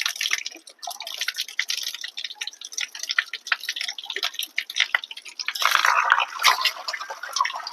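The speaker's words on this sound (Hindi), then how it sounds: "आ जाइए गाइस ठंडा ठंडा पानी पीने के लिए हमारे पंदेरे में।" Water dripping and trickling at a village spring, a steady scatter of close, bright drips over a running flow that swells louder toward the end, with no talk.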